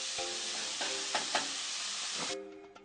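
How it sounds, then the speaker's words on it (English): Bacon strips sizzling in a frying pan over medium heat, a loud, steady close-up crackle and hiss with a few light stirring clinks, no talking. "Add the bacon strips to a medium-heated pan, stirring occasionally until nicely cooked. Enjoy that sensational sizzle."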